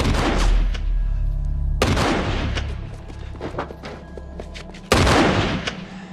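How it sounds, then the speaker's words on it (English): Gunfire from a Walking Dead television scene: three sharp, loud shots spaced a couple of seconds apart, each followed by a rumbling tail, with lower scuffling sounds between them. "Rick Grimes, like all violent Americans, shows up and starts shooting at the poor Muslim"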